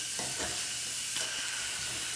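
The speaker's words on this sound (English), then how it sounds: "Hear that sizzle?" Onions sizzle in extra virgin olive oil in a saute pan, a close, continuous frying hiss. Light stirring scrapes sound through it, with no talking.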